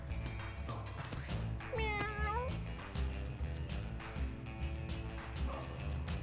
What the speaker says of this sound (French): Miaou. Meow. Miaou.